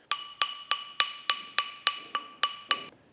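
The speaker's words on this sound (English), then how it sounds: "simply start to tap lightly on the surface of the metal and spin the ring around" A ball peen hammer taps lightly on a handmade metal ring, striking in a steady rhythm about ten times, each hit a bright ringing clink that decays between blows, close and clear with no talk.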